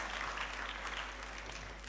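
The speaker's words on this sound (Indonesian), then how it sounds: "Siapa warga negara kerajaan sorga, tepuk tangan dong" A church congregation claps together in a soft, even wash, steady throughout with no voices standing out, heard from some distance.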